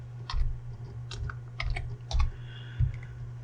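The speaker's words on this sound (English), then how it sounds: "Now you type in your system password" Password keys tapped on a computer keyboard during an Ubuntu install, a handful of close, separate clicks in small bursts with short gaps between them, quiet and without speech.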